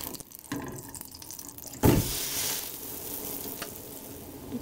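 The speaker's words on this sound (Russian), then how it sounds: "Итак, мы обжариваем с двух сторон." Steady sizzling of zucchini batter layers frying in a hot pan, with a sharp crackling burst partway through and a few small pops afterward.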